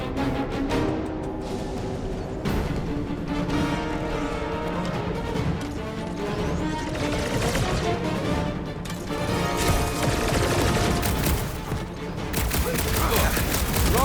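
Dense, continuous gunfire and crashing impacts in a Marvel's Guardians of the Galaxy battle, with rapid shots layered over a loud, busy mix of effects and music throughout.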